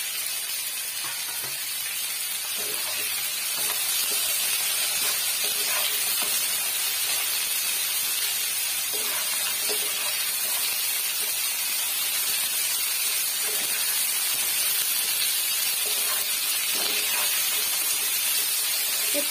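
Potatoes and fried lentil dumplings sizzling in a pan for alu posto, a steady loud hiss of frying broken by soft scrapes as the mixture is stirred.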